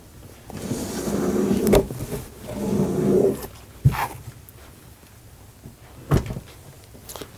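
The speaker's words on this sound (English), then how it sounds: "Now I'm going to close the door and I'm going to tip it on its back." A Carbide3D Nomad 3 CNC mill's door swings shut and the machine is tipped onto its back, giving scraping slides, then several sharp knocks and thumps spread out over a quiet room.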